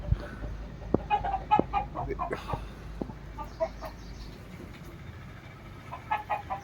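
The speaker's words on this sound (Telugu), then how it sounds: "మా కోళ్ళు కూడా అరుస్తున్నాయి." Household chickens kept at a home cluck and squawk in scattered bursts over several seconds, fairly close but not loud, against a quiet outdoor background with a few sharp knocks mixed in.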